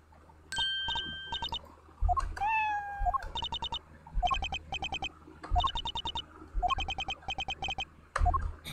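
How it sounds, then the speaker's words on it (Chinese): A cartoonish cat meows in the Ace Attorney 4 video game, with repeated short electronic mews and chirps mixed with game jingles and chimes. Several bursts come in a steady rhythm, loud and close. "猫咪。"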